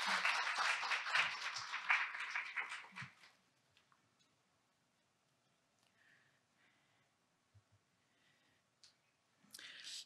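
Audience applause welcoming a presenter at a conference talk on credit scoring, a dense burst of clapping for about three seconds that fades out, followed by near silence with faint shuffles and clicks.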